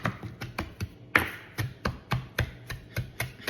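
A knife roughly chopping food on a cutting board in a home kitchen, with steady, fairly quick, crisp thuds in an even rhythm, close and clear, with no talking.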